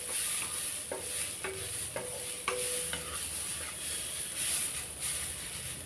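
Pakoras for an evening snack sizzle steadily in a hot pan, a continuous close hiss with a few sharp scraping stirs near the start, and no one talking.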